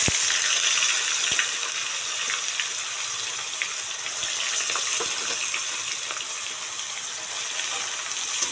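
Whole chilli, bay leaf and cardamom sizzling in hot oil in a kadai for chicken kosha as onion paste goes in, a steady close frying hiss with occasional sharp clicks and pops.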